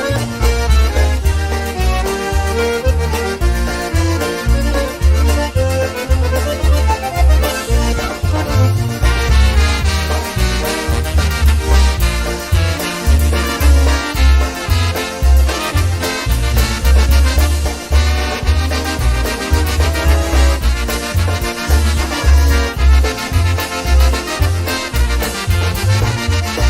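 Loud, brassy polka band music plays nonstop with a bouncy, steady oom-pah beat and bright horns over a driving bass line.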